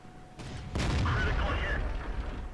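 A tank destroyer's cannon fires in World of Tanks, a single loud, close boom with a sharp crack that rolls into a sustained rumbling tail.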